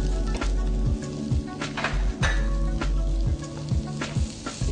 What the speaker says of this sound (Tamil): இப்போ வந்து நம்ம சாப் பண்ணி வச்சிருக்கிற ஆனியனை வந்து இதில் போட போகிறோம்.